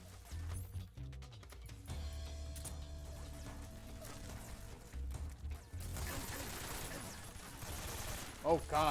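Gunfire in the Metal Gear Solid 3 Snake Eater video game, bursts of rapid shots mixed with game music and mechanical effects, with a player talking over it.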